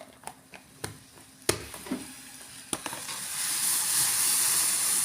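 Tea made with tea powder boils in a pot on a home stove: a few sharp spoon clinks give way to a steady, rising bubbling hiss that fills the last seconds, close and unbroken.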